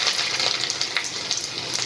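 Finely chopped garlic frying in hot oil with mustard seeds and cumin in a kadai, a close, steady sizzle with soft crackling bursts.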